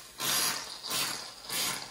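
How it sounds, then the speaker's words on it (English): A can of shaving cream shaken by hand for marbled paper, giving three rhythmic bursts of hissy rattling close by, each lasting about half a second with short pauses between. "So I'm gonna shake up my shaving cream and I'm only gonna use half of my pan."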